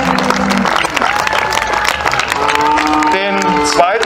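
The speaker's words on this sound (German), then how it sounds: "Da können Sie nochmal klatschen." Audience applause at a livestock award ceremony at a cattle show fair, steady dense clapping throughout with crowd noise and voices mixed in, fairly close and loud.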